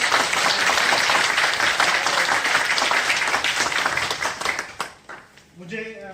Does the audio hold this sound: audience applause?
yes